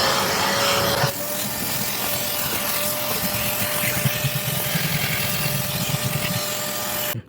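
A vacuum cleaner runs steadily inside a 2009 Toyota Hilux during detailing, a loud, continuous whirring drone with a faint whine, holding level for several seconds before cutting off at the end.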